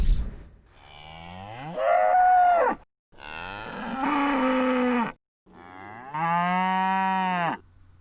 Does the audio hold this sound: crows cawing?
no